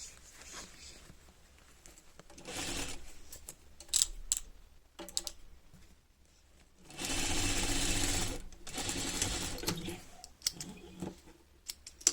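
A sewing machine stitches dress fabric and lining in bursts of steady mechanical whirring with pauses between runs, close and moderately loud, with no talking.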